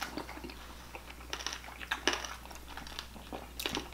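Close, quiet chewing and biting into crunchy pork belly, with crisp crackles and soft crunches in an irregular rhythm over a faint background hum.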